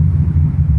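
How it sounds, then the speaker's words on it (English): Loud road traffic roars continuously beneath an overpass, a dense, steady low rumble of passing vehicles with no breaks. "I got to yell because it's so darn loud here with all the traffic"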